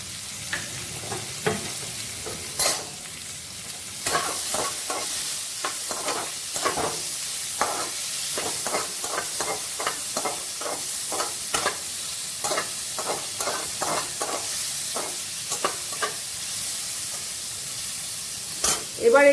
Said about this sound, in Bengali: নুন আর হলুদ দিয়ে আমি একটু ভেজে নিচ্ছি